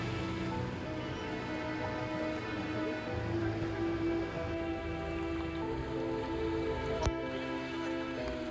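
Heavy rain pours steadily during a flood in Nallasopara, a dense, continuous wash of falling water with a low rumble underneath and a brief sharp knock near the end.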